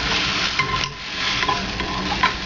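Food frying in a pan and being stirred, a steady close sizzle with faint utensil scrapes over a constant hiss, no talking.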